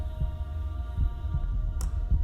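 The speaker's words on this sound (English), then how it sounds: "the second heartbeat starts beating even louder in your ears" A heartbeat sound effect thumps in low, muffled pulses over a steady hum, with a short noise burst near the end and no speech.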